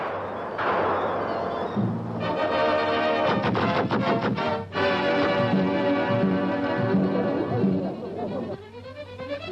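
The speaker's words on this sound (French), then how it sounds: "Toutes les armes entrent en action. Les mitrailleuses crachent." Machine guns and other weapons fire during a strike or insurrection in archival French newsreel footage, heard as a dense run of rapid shots and thuds under a narrator's voice, loud and continuous.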